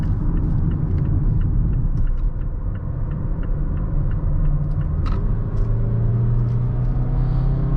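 A 2020 Mazda CX-5 SUV accelerating on a highway, heard from inside the cabin as a steady loud engine and road rumble with tyre hum, a rising tone toward the end, and a few faint clicks, with no talking.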